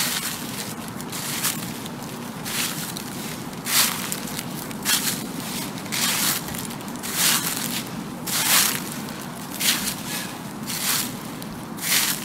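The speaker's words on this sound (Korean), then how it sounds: "과연 어떤 신발 종류로 밟은 낙엽 소리였을까요?" Fallen leaves on a street crunch under footsteps in a steady walking rhythm, each step giving a close, loud, crackling rustle.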